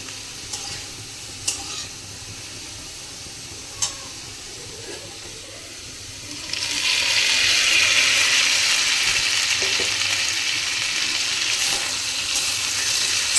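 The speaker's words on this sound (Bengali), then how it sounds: "মশলার কাঁচা গন্ধটা যাওয়া পর্যন্ত ভেজে নেবে" Scraping stirring in a pan of fried potatoes, then a loud, steady sizzle as ginger and green chilli paste fries, bursting in partway through and continuing to the end.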